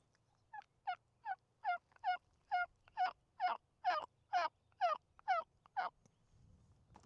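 A man imitates a turkey gobble by mouth, with no reed, outdoors on a mountain. The call is a rapid series of about a dozen evenly spaced, warbling yelps that grow louder toward the middle and then stop.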